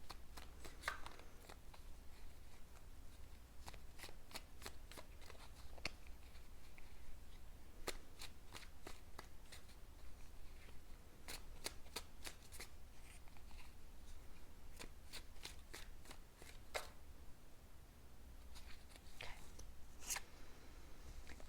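Tarot cards shuffled close to the microphone, a soft, continuous riffling with crisp flicks and snaps as cards are drawn. The sound stays quiet and steady throughout, with no talk.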